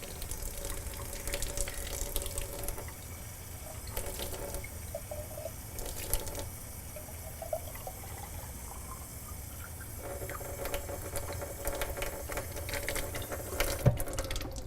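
Filtered water runs steadily from a filter spout into a sample container, a continuous splashing trickle that shifts in pitch as the container fills, with occasional louder gushes and no voices.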